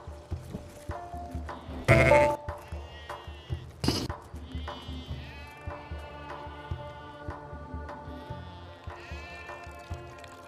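Goats and sheep bleat repeatedly at a farmyard milking spot, with harmonic calls rising and falling across the whole stretch, some close and loud, others softer, mixed with thumps and shuffling.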